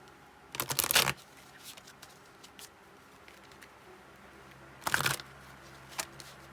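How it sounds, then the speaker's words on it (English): Messages of Love Oracle cards being shuffled and drawn, heard as two short, close, crisp bursts of riffling paper separated by quiet with a few faint taps, no talking. "We will get some cards for clarification from the Messages of Love Oracle cards."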